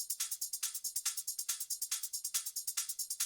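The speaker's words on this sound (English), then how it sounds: "and a shaker loop." A shaker loop programmed in FL Studio for a melodic future bass track plays alone: a fast, steady pattern of bright, hissy shakes with regularly accented strokes, close and clear, with no bass or other instruments.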